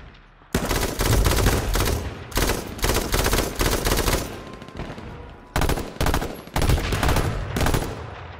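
Gunfire in a shooter video game: loud bursts of rapid automatic fire separated by short pauses, close and punchy, with a brief quiet stretch before the final volleys.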